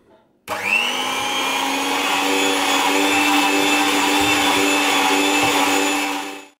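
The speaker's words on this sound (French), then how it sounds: "je vais fouetter ma pâte pendant à peu près 5 minutes" An electric mixer starts abruptly and whirs steadily through banana fritter batter, a loud continuous motor whine with a faint tail as it shuts off at the end, no talking.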